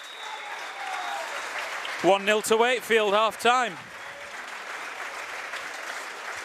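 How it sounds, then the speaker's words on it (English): About 562 spectators applaud as the players leave the pitch at half time in the Wakefield v Oughtibridge football match. Scattered clapping runs steadily from a distance while a commentator speaks over it. "Players go off to an ovation from the 562 strong crowd."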